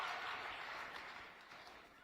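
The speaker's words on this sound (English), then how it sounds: "Let's give him a round of applause." Sustained audience applause fills a large conference hall at AmericaFest 2021, dense and steady for the whole stretch, easing slightly toward the end.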